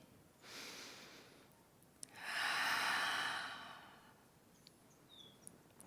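Two close, audible breaths during a yoga pose: a softer inhale, then after a brief gap a longer, louder exhale that swells and fades, with faint bird chirps in the background.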